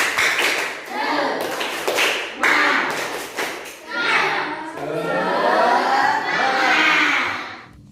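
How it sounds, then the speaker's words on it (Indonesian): Schoolchildren in a classroom perform a patterned spirit clap, bursts of sharp claps in a rhythmic sequence mixed with chanting young voices, fairly loud and close. "Mari kita awali dengan tepuk semangat."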